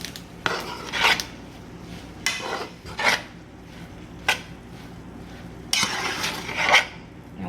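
A spoon scraping and clattering through sloppy joe mixture in a metal pan, several irregular bursts of stirring with short pauses between, close and fairly clear with no talking.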